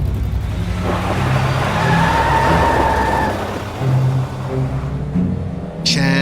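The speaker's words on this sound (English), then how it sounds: "Chaz drives away fast." A car speeds off at night in a zombie-attack drama, with a sustained engine roar and faint tire squeal over several seconds, steady and fairly close, ending with a brief sharp sound.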